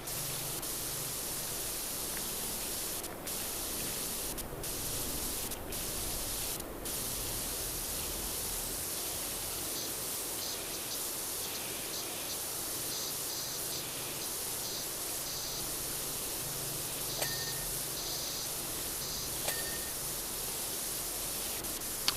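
Pressure washer spraying off soap in PowerWash Simulator 2 at a motel: a steady, loud broadband hiss of water jet running continuously with brief interruptions and a couple of faint clicks.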